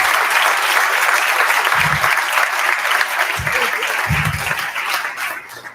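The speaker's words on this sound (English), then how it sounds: "It is worth applauding" An audience at a Tina Talks event bursts into sustained applause, a loud, dense crowd of clapping with a few low thumps underneath and no speech over it.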